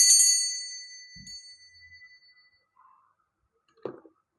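A single bright bell ding rings out at the start of a tarot card reading and fades over a couple of seconds, followed by a few faint knocks and a soft tap.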